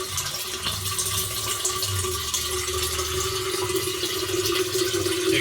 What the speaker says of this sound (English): but it is just starting to flush